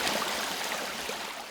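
Cold, clear mountain stream water flowing over rocks near Baekdu Mountain, a steady broadband rush that stays even and close for the whole moment, with no voices.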